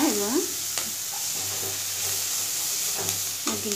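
Chopped onion fries in a pan with a steady sizzling hiss, punctuated by a few sharp scrapes of stirring, while a voice briefly sounds at the start and near the end.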